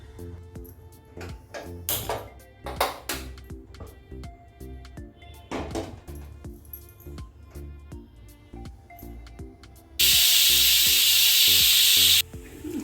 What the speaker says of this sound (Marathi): चार शिट्ट्या झालेल्या आहेत ते गॅस बंद करते आणि कुकर गार करून घेऊया